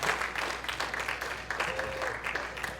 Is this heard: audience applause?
yes